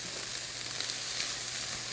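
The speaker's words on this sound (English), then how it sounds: "See a lot of sizzling and popping going on." Garlic and moist grated ginger sizzle steadily in a hot pan, a dense continuous hiss with light crackling pops, close and even throughout with no talking.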